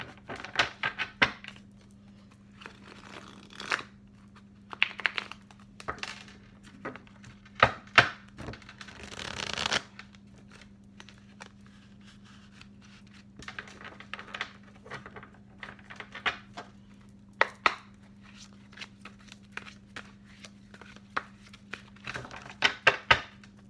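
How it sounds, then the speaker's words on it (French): A deck of green magic tarot cards is shuffled by hand, giving irregular riffling and slapping bursts with short pauses between them, close and dry over a faint steady hum. "je mélange bien pour mettre le jeu à 0"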